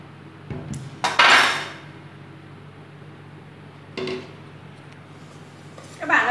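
Toasted sesame seeds are poured into a metal pan in a home kitchen, giving short gritty rattling bursts at intervals with quiet room noise between them.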